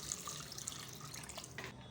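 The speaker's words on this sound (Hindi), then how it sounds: "इसके अंदर हम दोबारा से पानी डालेंगे।" Water is poured into a bowl of raw liver during washing, a close, gentle splashing trickle with small drips that runs through the whole moment.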